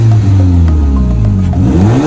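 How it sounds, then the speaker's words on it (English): A Polaris Slingshot with a Stage 1 turbo and dual exhaust revs up and down several times, loud and close, with a turbo whoosh and blow-off valve hiss between the revs and no talking. "rev up the engine a little bit so you can hear what it sounds like"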